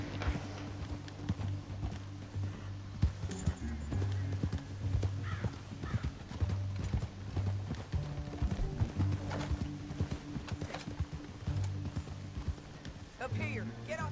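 Horses trot and gallop in Red Dead Redemption 2, rhythmic hoof clip-clops running steadily under continuous voices talking and the occasional whinny, with a low musical drone beneath.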